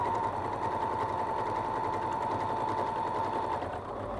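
A sewing machine runs steadily as it stitches quilt strips together, a close, continuous whirring hum with no pauses, fading slightly at the very end.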